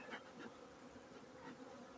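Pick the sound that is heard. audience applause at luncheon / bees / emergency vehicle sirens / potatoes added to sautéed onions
bees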